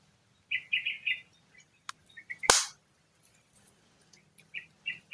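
Jackie Bird, a pet bird, gives several short bursts of high chirps in a quiet room, broken by one sharp loud snap, then more scattered chirping.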